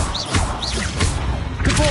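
Bombarda blasting spell impacts in Hogwarts Legacy, loud game thuds and crashes with whooshing bursts, layered over a character's voice.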